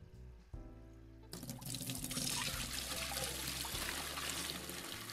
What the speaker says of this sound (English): the water effects seem very loud